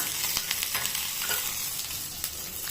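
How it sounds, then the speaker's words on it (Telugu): Green chillies, garlic cloves and a little tamarind fry for a tomato-mint chutney, giving a steady close hiss with scattered spoon scrapes and light crackles, with no voices. "ఒక 10 to 12 వెల్లుల్లి, చింతపండు కొంచెమే. ఇది జస్ట్ ఒక 1 minute ఫ్రై అయితే చాలు."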